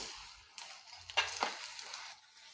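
Roasted chana dal tossed into a pan with peanuts and curry leaves for a puffed-rice chivda, giving a soft sizzle with a few stirring scrapes and clinks, moderately quiet and close, with no talking.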